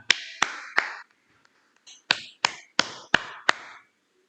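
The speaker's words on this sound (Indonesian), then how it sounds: "Kita tepuk tangan untuk kita semua." Children clapping hands together in a classroom, sharp, separate claps in two short bursts, three quick claps then a pause and five more in an even rhythm, close and loud against near silence.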